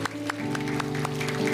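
A Baptist church congregation applauds during worship. Scattered claps patter steadily over sustained, held musical tones from instruments playing underneath.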